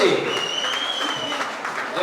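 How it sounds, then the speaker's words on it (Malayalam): A crowd claps steadily at a pigeon racing tournament prize distribution in Palakkad, a continuous wash of applause under an announcer's amplified voice. "നല്ലൊരു കൈയടി."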